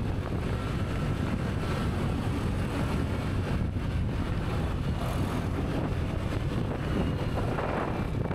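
Steady, roaring wind buffets the microphone in a continuous low rumble, with no pauses or voices, like riding in open air at speed.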